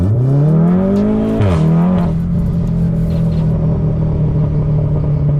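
Stage 2 tuned Volkswagen Golf R Wolfsburg Edition accelerating hard, its engine note climbing steadily, dipping briefly at a gear change, then holding a loud, close, sustained drone with no talking.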